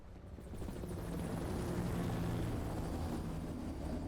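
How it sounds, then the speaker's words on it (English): A helicopter drones overhead in a steady, low rotor rumble that holds even and fairly faint throughout, with no talking. "I've been hearing a lot of helicopters."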